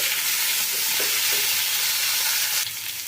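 Squash fries on a high flame in a Bengali vegetarian dish, with a loud, steady, close hiss and sizzle and faint stirring, easing slightly near the end, with no talking.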